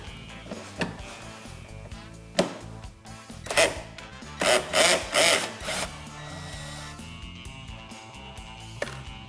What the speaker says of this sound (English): You have to put this on low setting if you want to use a power tool.